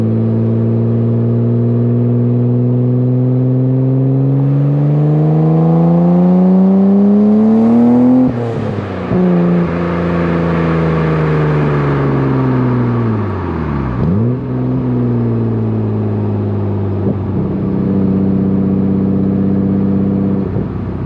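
A Nissan Skyline R32 GTR with a Tomei exhaust, recorded close at the rear: loud repeated revs climb in pitch, drop back, then climb again, with a raspy exhaust note and no talking.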